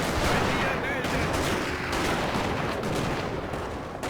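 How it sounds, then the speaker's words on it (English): Musket volley fire in the Napoleon: Total War video game, a dense continuous crackle of massed infantry shots filling the whole stretch at steady loudness. "they've already got a really good volley there"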